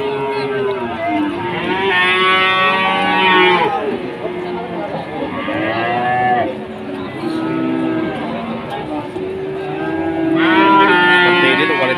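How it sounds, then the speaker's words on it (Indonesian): Several Limousin cattle moo loudly and close by in long, overlapping calls at a livestock market in Wirosari, Grobogan, with market chatter and crowd noise running underneath throughout. "sapi limusin, teman-teman."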